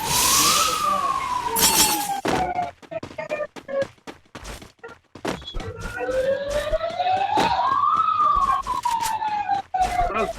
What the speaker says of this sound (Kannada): ಬನ್ನಿ ಮಗ ಆಂಬುಲೆನ್ಸ್ ಓಡಾಡ್ತಿದೆ.